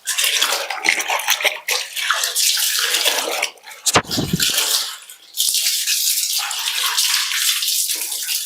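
Water runs steadily from a tap into a tub while clothes are washed by hand at home, a loud continuous splashing rush with a brief break of sloshing and clattering midway.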